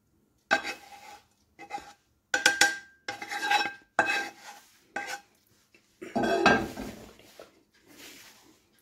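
Cooked jadariyu, a traditional Kathiyawadi village sweet, is scraped and pressed from a pan into a metal dish: close, intermittent metallic scraping and rubbing strokes separated by short pauses, with no talk.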